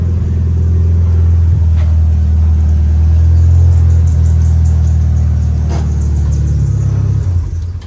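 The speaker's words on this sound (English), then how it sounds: "Full titanium TOMEI exhaust." A Mitsubishi Lancer Evo X MR with a full titanium TOMEI exhaust revs hard and close, a loud, deep, booming drone held for several seconds before cutting off abruptly near the end.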